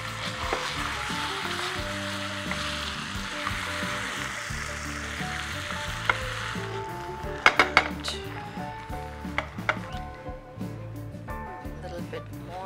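Cream poured into a sizzling sauce in a pan for a sticky date pudding, a steady loud frying hiss under a voice, followed by clinks and taps of a spoon against the pan.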